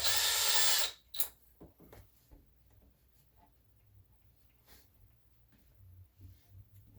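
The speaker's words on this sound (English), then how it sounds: "I can just completely drill a new pilot hole." A power drill bores a new pilot hole through a wooden media shelf in one loud, close whirring burst of about a second, followed by faint taps and handling clicks.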